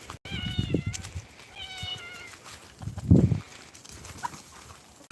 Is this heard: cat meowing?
yes